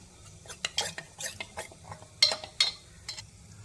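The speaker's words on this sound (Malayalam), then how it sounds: "ഒരു പാത്രത്തിൽ 1 ടേബിൾ സ്പൂൺ കോൺഫ്ലവർ എടുത്തിട്ട് അതിലേക്ക് കുറേശ്ശെ വെള്ളം ഒഴിച്ച് കട്ട കെട്ടാതെ ഒന്ന് ഇളക്കി കൊടുക്കാം" A spoon stirs a tablespoon of cornflour into water in a bowl for a Kerala drumstick-leaf soup, giving quick, close scraping strokes and sharp little clinks against the bowl.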